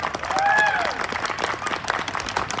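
Crowd applause at a bull-riding rodeo tournament in an outdoor plaza, a moderate spread of clapping mixed with cheering and a brief whistle near the start, with voices carrying through the crowd noise.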